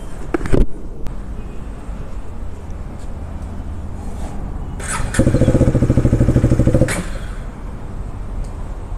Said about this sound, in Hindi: अभी ले रहे बाइक को अंदर